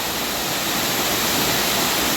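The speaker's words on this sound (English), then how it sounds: "Lower Falls was nice, but among these two waterfalls, Upper Falls is definitely the winner." Upper Falls at DeSoto Falls in Georgia's Chattahoochee National Forest roars steadily, a dense, constant rush of falling water close by with no voices.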